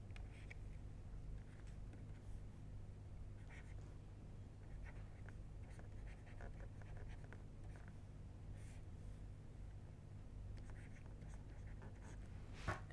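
Chalk or pen writing on a board during a lecture, with faint intermittent scratching strokes over a steady low hum; no one speaks.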